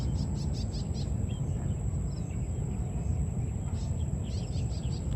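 Many birds chirp outdoors on a hillside lot overlooking a lake and city, high tweets scattered over a constant insect-like buzz and breezy rumble, with no one talking.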